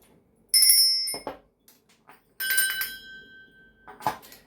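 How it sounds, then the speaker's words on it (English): Small hand bells ring in two bright, sustained bursts for a space-cleansing ritual, each chime shimmering and slowly fading, close and clear, with brief soft knocks between the rings. "I am going to be ringing some bells just to cleanse the space around us."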